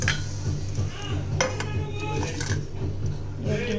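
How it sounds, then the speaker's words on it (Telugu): Sprouted moong beans, horse gram and chickpeas tip into a bowl with a few light clinks of a spoon and dishware, over a steady low hum in a home kitchen. "ఇవి తీసుకొని ఒక గిన్నెలో అయితే వేసేస్తున్నాను."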